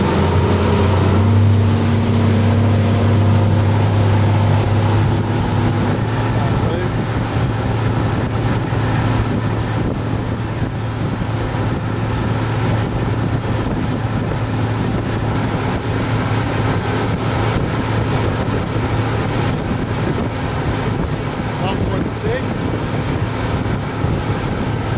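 Motorboat running hard at about 4,000 rpm with trim set low, a loud steady engine drone with strong tonal hum, plus water rush and wind buffeting throughout, close to the microphone.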